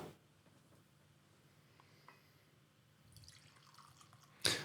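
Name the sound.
pouring a dram of whisky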